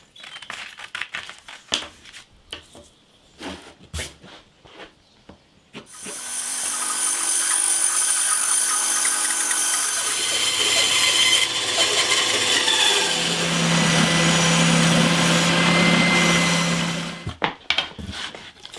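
Pieces of 5mm plywood offcuts being cut out with a powered saw, a steady buzzing rasp lasting about ten seconds after some scattered knocks and handling noises, then a few clatters as the cutting stops.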